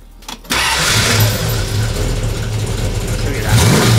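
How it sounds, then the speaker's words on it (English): A Mustang's engine cranks with a short starter whir, then catches and settles into a loud, steady running rumble nearby in a garage. "Right, shall we start the engine?"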